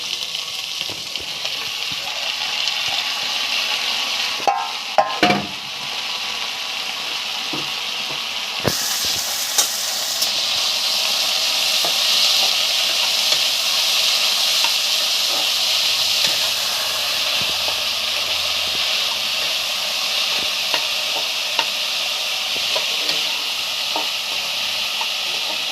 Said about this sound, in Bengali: এই যে আলুটা ভাজা হয়ে গেছে, আলুটা ভাজা হয়ে গেছে।